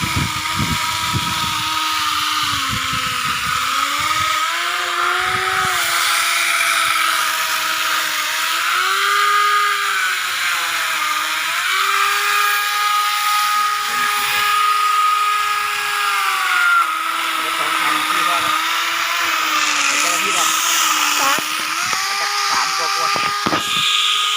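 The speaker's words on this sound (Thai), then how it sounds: "เลื่อยโซ่ไฟฟ้าหินเจียใช้งานดีมากครับตัวลองใช้แล้ว" An electric chainsaw whines steadily for the whole stretch, its pitch dipping and rising as it cuts, loud and close, with a few knocks and clatters.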